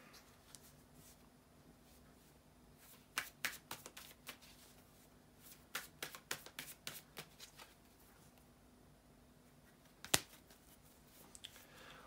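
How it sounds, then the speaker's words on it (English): Quiet riffling and slapping of tarot cards being shuffled in several short bursts, close by, with soft taps and a sharp snap near the end. "bear with me just a second, guys, to shuffle the tarot cards"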